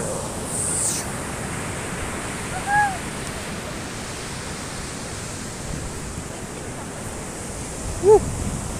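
Broadband surf and breaking waves wash steadily along a beach, a constant roar of water close by, with a couple of brief faint voices or calls rising above it.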